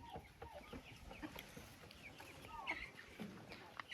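A broody hen with chicks in a poultry enclosure makes soft, irregular clucks and murmurs alongside faint chick peeps, quiet and close within low background noise, with a voice faintly audible at times.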